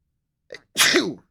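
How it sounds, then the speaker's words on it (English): A short breathy intake followed by a loud, explosive sneeze, close by and alone with no talking. "But I might sneeze."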